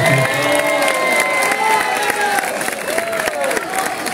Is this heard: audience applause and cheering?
yes